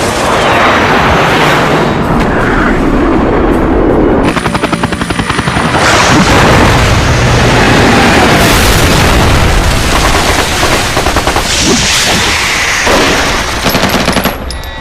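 Rapid machine-gun bursts, booming explosions and a helicopter's rotor roar together through an action movie battle, loud and relentless, with dense volleys of gunfire and heavy blasts piling up without pause.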